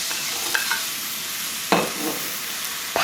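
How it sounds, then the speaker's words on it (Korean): Sliced onion and green onion fry in plenty of cooking oil, giving a constant close sizzle broken by a few louder stirring scrapes and clatters, no voices. "먼저 양파하고 파를 볶아줄 거예요"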